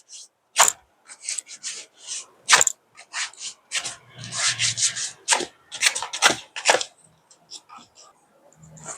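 Hands rub and press a wax strip firmly onto skin during waxing, producing a series of short, close scraping swishes in an irregular rhythm with brief gaps between strokes.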